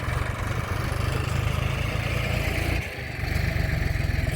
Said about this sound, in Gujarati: હા ઘા ટ્રેક્ટર ભરે છે